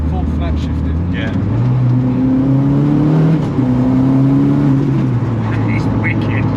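A K24-turbocharged Ford Fiesta track car engine with full flat-shift, a steady loud drone with rising and falling harmonic tones as gears change, under continuous talking.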